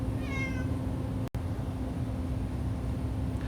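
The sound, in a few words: cat meowing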